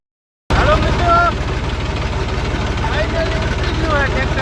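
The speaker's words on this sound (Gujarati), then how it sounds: "ફાઇનલી ઉપડી ગયું આ ટ્રેક્ટર આપણું" A tractor engine runs with a steady, loud, low rumble while another tractor tows it on a farm. Faint voices sound under the constant drone.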